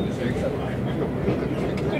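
A train pulls into Yunokami Onsen station in Aizu, heard from inside as a steady, close rumble with faint rail clatter and no pauses.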